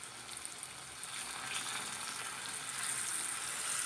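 A marinated fish coated in chiroti rava and cornflour fries in hot oil, making a steady, close, bright hissing sizzle that swells slightly as it goes on.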